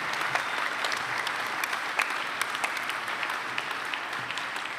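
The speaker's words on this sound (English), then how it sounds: "with a warm round of applause and a lot of cheering, join me in thanking all those who've been backing you throughout your journey" Graduation ceremony audience gives a sustained round of applause, dense even clapping from a large crowd with scattered sharper claps, holding steady throughout.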